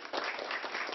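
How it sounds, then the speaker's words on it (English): Students at a middle school assembly clap to welcome a visiting meteorologist, a brief burst of dense, even applause from a close crowd. "Can we clap to welcome them?"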